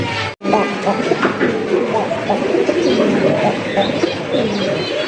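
Red Rajgolla fancy pigeons coo repeatedly up close in a loft or market, their soft throaty calls overlapping with scattered chirps and a low murmur of voices.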